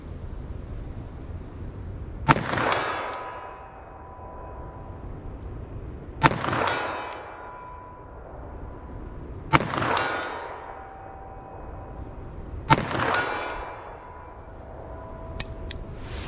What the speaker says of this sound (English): Sure is fun shooting from this distance.